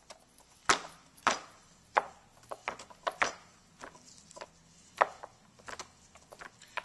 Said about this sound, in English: So you want to get a decent crumble on this just with your knife.